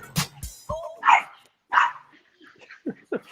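A dog gives a few close barks and yips, short sharp calls spaced irregularly with quiet gaps between them.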